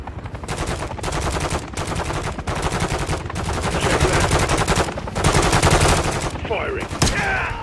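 Sustained automatic gunfire in Call of Duty: Modern Warfare III, loud bursts repeating in a steady rapid rhythm for several seconds with brief pauses between volleys, close and dominant.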